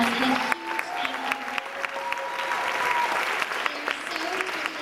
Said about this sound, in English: give both of them a big round of applause and a huge thank you